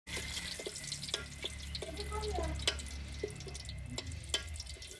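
Oil heats and crackles in a pan with spice pastes in a Bangladeshi village kitchen, a soft frying hiss dotted with sharp clinks of stirring utensils, close by and without talk.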